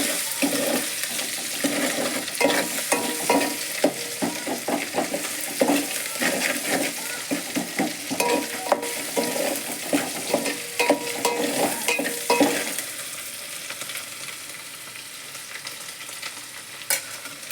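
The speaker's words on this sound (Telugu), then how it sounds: "తర్వాత అల్లం వెల్లుల్లి పేస్ట్ వేసుకుందాం. మంచిగా మిక్స్ చేసుకుందాం." Ginger garlic paste frying in a pan while being stirred, a steady close sizzle broken by a rhythmic run of spoon scrapes and taps against the pan, then settling into a quieter hiss.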